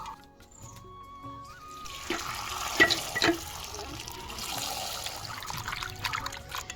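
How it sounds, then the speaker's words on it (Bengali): Cut potatoes and vegetable stalks are rinsed under a running kitchen tap: a faint trickle at first, then louder splashing and sloshing of water as the pieces are handled. "এবার চল ধুয়ে নিয়ে আসি"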